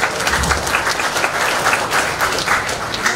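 An audience at the Perpani 2024 national archery meeting in Indonesia claps steadily and fairly loudly throughout, a dense continuous wash of hands with no talk over it.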